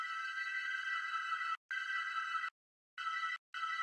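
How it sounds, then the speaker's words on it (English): A frozen reverb tail in Ableton: a sustained, bright electronic tone with an unchanging shimmer, cutting off abruptly twice and resuming, with no voices. "I'll listen for a good part of this reverb"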